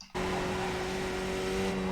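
Skip Barber race car at Spa-Francorchamps with its engine easing through a partial throttle lift, a steady, close, buzzing engine tone that starts abruptly after a brief quiet moment and carries on unbroken.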